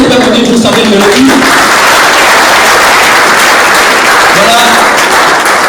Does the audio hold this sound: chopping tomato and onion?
no